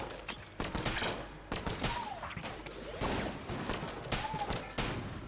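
In the video game Enter the Gungeon, the Hyperlight Blaster fires in a quick run of sharp blasts, roughly a dozen bursts in a few seconds with brief descending zaps between them, crisp and close.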